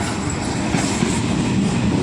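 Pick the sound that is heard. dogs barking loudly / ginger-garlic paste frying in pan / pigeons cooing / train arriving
train arriving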